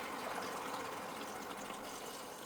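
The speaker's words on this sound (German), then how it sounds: "Das Wasser fließt jetzt in die Anlage." Cold water runs steadily into an AS5000FF under-sink water filter unit after the supply valve is opened, a continuous close hiss of flowing water with no voices.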